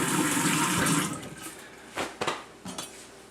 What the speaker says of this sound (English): I'll go ahead and rinse that off.